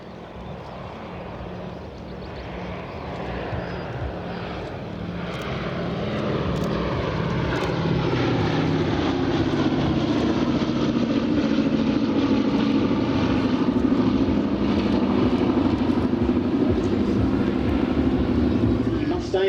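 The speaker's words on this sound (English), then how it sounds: "This is the B-17 Flying Fortress." The Boeing B-17 Flying Fortress 'Sally B' flies a display at the Biggin Hill Festival of Flight, a deep, droning multi-engine piston rumble building louder and nearer, with a commentator speaking over it.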